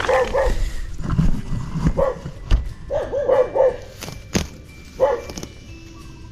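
Several dogs bark in short, repeated bursts outdoors, some close and some a little farther off, with a few soft yips and footstep-like shuffles between the barks.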